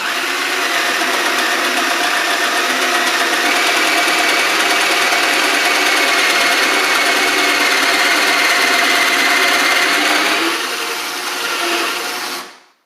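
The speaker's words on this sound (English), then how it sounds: "So now we go ahead and start drilling." A drill bores a cabinet door hinge hole through a Kreg concealed hinge jig, a loud, steady whirring that runs continuously for about ten seconds before slowing and stopping.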